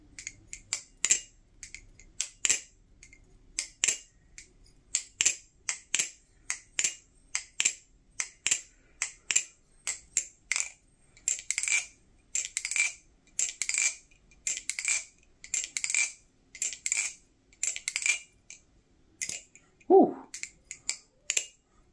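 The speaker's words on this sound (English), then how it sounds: "So now here's the sound test with some KPL heavy thrown in there." An aluminum balisong trainer lubricated with KPL heavy oil is flipped over and over, producing rapid rhythmic metallic clacks close to the listener, with a brief low vocal sound near the end.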